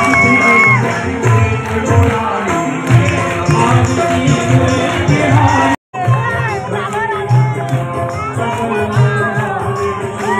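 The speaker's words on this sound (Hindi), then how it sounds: "मतलब आप बिलीव नहीं कर सकते कि कितना ज्यादा भीड़ है" A large crowd cheers and shouts at a Shrimad Bhagwat Katha stage event, a dense, steady roar of many voices with whoops and a brief dropout midway.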